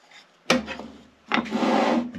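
A dado blade cuts a wooden test piece in two quick bursts: a short rasping bite, a pause, then a longer grinding pass through the wood over a low motor hum.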